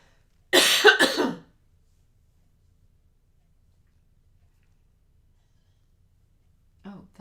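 One brief, loud cough bursts out close by near the start, followed by near silence and a faint sound at the very end.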